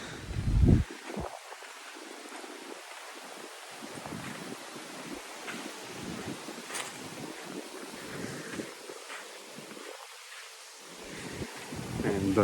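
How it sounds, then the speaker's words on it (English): Gusty wind buffets the microphone in a steady rumbling roar, with low bursts swelling and fading over an outdoor seaside ambience at Chaweng Noi Beach, Koh Samui. "it started to be windy"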